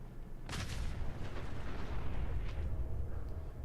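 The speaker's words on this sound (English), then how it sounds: "Explosions all around." Deep rumbling explosions and booms in the video game Fallout 4, one sharp blast followed by continuous heavy low rumble, loud and dense with no voices.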